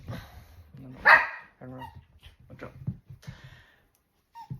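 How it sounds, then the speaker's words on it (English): A dog barks close by, with one loud bark followed by several smaller yips and whimpers spread over a few seconds. "Now, here comes the dog."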